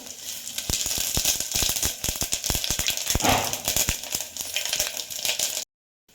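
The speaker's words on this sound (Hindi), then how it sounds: "हेंगू पर जीरा फुटेगा" Dense, rapid crackling and popping of cumin seeds spitting in hot oil with asafoetida, irregular sharp pops continuing for several seconds before stopping abruptly.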